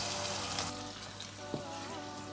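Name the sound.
onion sauce cooking on low gas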